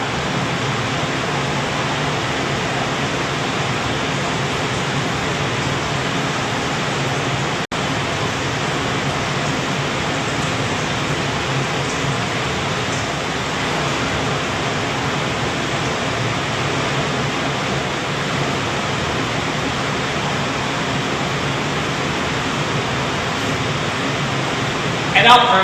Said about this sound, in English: I see my water falling, so I'll adjust my tap